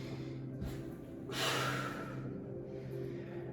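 A single audible breath drawn in, paired with a louder exhale, at a glute bridge exercise with a resistance band, fairly near, with no talking.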